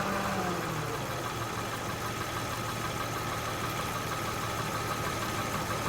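A Honda Odyssey with a 3.5L V6 idles steadily with the AC compressor running, giving a continuous close, even engine hum with a faint mechanical rattle and no talking.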